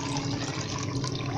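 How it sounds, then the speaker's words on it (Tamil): Water measured by tumbler is poured into a wide pan of sugar for instant gulab jamun syrup, a steady close splashing and pouring stream with no talking. "இப்போ நம்ம என்ன பண்ண போகிறோம்னா இந்த இதில் தண்ணி அளந்து ஊற்றிக்குங்க"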